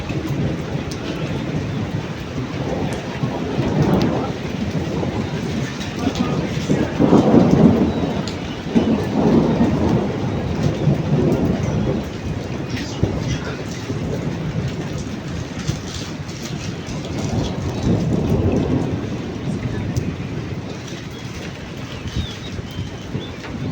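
Heavy rain and rolling thunder arrive with a sudden weather change in the hill town of Mussoorie. The downpour is loud and steady, and the low rumbles swell and fade throughout.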